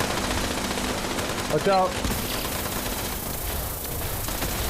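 Dense, continuous automatic gunfire from a vehicle-mounted weapon in the video game Fallout 76, with an APC nearby, rattling loudly throughout as a voice calls out briefly partway through.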